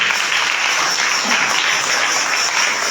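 Loud, steady applause from a crowd gathered for a Christmas and New Year program, a dense continuous patter of many hands clapping for the full stretch with no voices rising above it.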